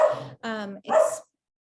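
A dog indoors barks three times in quick succession, short sharp barks with a tonal middle one, fairly close and moderately loud, then silence.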